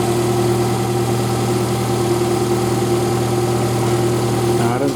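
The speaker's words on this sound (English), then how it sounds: "it just sits here while the engine's running" A 2014 Toyota Corolla idles steadily with its heater on during a coolant and hose change, a constant close-up mechanical hum with a faint change near the end.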